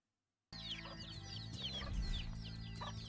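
Several chickens cluck and chatter close by, their calls overlapping steadily after a brief silence at the start.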